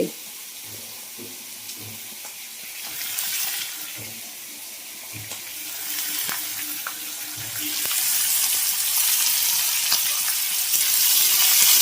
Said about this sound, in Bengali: ভেজে নিব লবণ দিয়ে